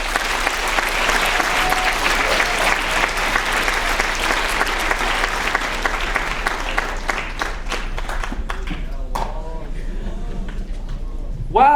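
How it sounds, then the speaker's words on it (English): Sustained applause from a school audience after student speeches at a writers week event, dense steady clapping that thins toward the end into scattered claps, with talk beginning over it. "Let's give another round of applause."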